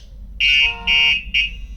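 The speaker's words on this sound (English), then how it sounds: "gives us a bit of a horn honk within a Bluetooth range" Three short electronic horn honks from a Ford Escort Cosworth, triggered by an alarm app, two longer and one briefer, sounding loud and close against a quiet background.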